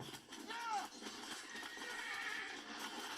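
Horses of a cavalry charge in a Game of Thrones battle scene neigh and whinny over a busy mix of hoofbeats, with a voice talking over the scene throughout.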